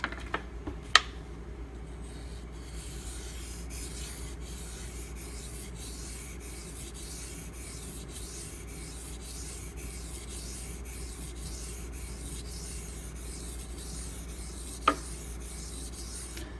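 A knife slides back and forth across Pride Abrasives water stones with very light pressure, giving a quiet, steady rhythmic rubbing interrupted by two faint sharp taps.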